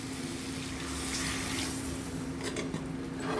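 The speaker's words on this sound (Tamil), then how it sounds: "1 டம்ளர் அளவுக்கு தண்ணி சேர்த்துக்கணும்." Water poured into a pan of red soya bean gravy as it cooks, a soft, continuous trickling splash that swells slightly and stays fairly quiet, with no talking over it.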